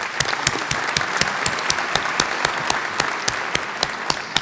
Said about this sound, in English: please applaud for